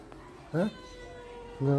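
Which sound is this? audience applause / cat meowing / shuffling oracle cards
cat meowing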